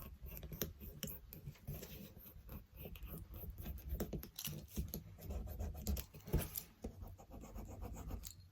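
Pencil or marker scratching across sewing pattern paper while dart lines are drawn and marked at top and bottom, with close, quiet repeated strokes and light paper rustling.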